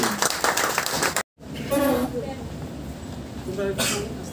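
A seated audience applauds at an appointment award ceremony as offer letters are handed out. A brief broadband burst of clapping is followed by a short cutout, then amplified speech, with scattered claps returning faintly.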